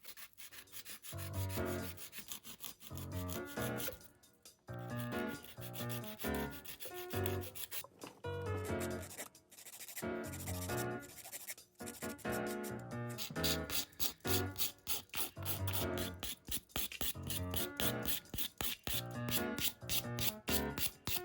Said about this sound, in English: So I'm going to use my 80 grit file. It just gets the job done quicker.